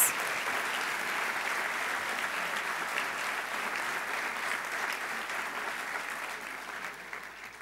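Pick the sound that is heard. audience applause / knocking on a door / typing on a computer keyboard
audience applause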